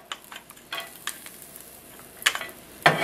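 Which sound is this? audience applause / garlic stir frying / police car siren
garlic stir frying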